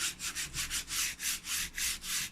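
Sandpaper is worked over a wooden surface in quick, even back-and-forth strokes, about ten rasping passes in a steady rhythm, close and alone.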